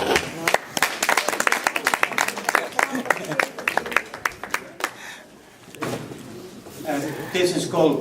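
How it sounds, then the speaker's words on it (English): An audience at a talk about building houses in Argentina breaks into clapping, a dense burst of claps for about five seconds that thins out, followed by quieter room noise and scattered sounds. "Well, clap somebody."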